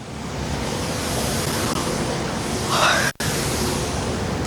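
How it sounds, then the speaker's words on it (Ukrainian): Water sprinklers spray across the central square of Chernivtsi in summer, giving a continuous broad hiss like rain or surf, with a brief brighter splash near the end before a short dropout. "Розприскувачі води другий рік поспіль влітку працівники Чернівці водоканалу встановлюють на центральній та соборній площах."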